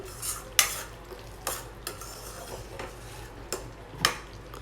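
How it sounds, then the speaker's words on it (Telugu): A tomato paste mixture is stirred in a pan, with a soft sizzle underneath and several sharp utensil clinks and scrapes against the metal at irregular intervals. "ఇదంతా కూడా మరొకసారి అంతా బాగా కలిసేటట్టు మిక్స్ చేసుకోవాలండి"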